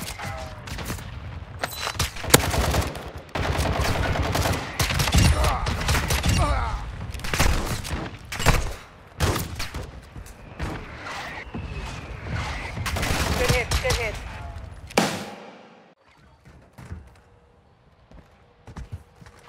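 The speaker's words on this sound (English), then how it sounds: "Mortar strike on the way." Mortar strike in Call of Duty: MW2, a rapid barrage of loud, close explosions and gunfire-like blasts pounding almost continuously, then cutting out abruptly near the end to leave quieter rumble.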